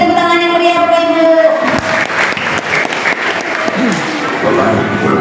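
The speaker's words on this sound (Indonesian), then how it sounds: "Beri tepuk tangan yang meriah Bapak Ibu." An audience in a school hall claps after an elementary school dance performance, sustained dense applause rising in over a voice and music, holding loud and steady to the end.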